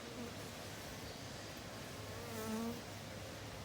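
Honeybees buzzing around open mating nucs as a beekeeper inspects them, a faint steady drone with a few individual bees whining past close by, one swelling louder just past the midpoint, no talk.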